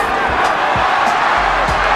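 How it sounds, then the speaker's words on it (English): Mexican boxing fans in a fight arena cheer for Barrera in a dense, continuous roar, with a few dull thumps breaking through the wall of crowd noise. "the whole crowd was going wild, cheering on Barrera"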